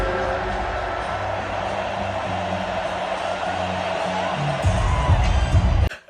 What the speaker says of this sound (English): the whole crowd screaming out A minor